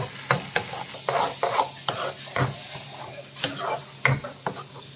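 Curry leaves sizzle in tempering oil for an onion chutney served with Mysore bondas. A spoon stirs and scrapes the pan in irregular close strokes over a soft, continuous frying hiss, with no voices.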